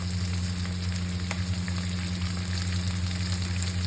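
Chopped garlic sizzling in a frying pan while chili chicken cooks, a steady close hiss of frying over a low constant hum, with no talk.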